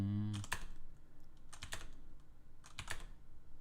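Keys clatter on a computer keyboard as letters are typed one after another during a hangman game, with close, steady bursts of clicks and a short hum at the start.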